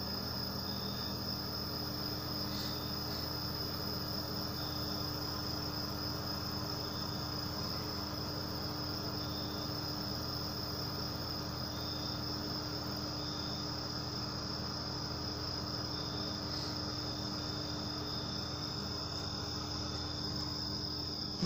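Crickets chirp steadily and continuously at a quiet level, a dense high trill with no voices and no pauses.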